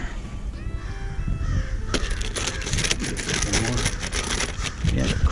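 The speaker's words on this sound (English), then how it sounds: "the crows and everything have been crazy today" Crows caw several times at moderate distance outdoors, followed by a run of sharp tapping and knocking as fittings are set during a Dometic roof vent install on a vintage RV.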